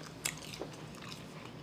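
A crisp bite into seasoned Backyard Burger fries comes first, followed by a smaller crunch and soft chewing, all close and quiet.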